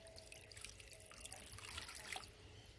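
Water poured over a hand onto the soil of a potted lotus tuber, making a soft, continuous trickle and splash, quiet and close, with no talking.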